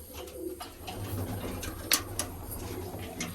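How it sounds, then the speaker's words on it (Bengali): Pigeons in a loft, among them Malbai pigeons kept with their young, coo softly and continuously, with a few louder wing flutters and scuffles nearby. "এটা হচ্ছে মালবাই পায়রা।"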